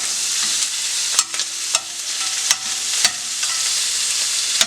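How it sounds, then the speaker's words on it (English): Shrimp sear in a hot pan with a steady, bright sizzle that fills the space, broken by occasional soft clicks and taps at roughly even intervals, with no voices. "Now we're just searing the other side."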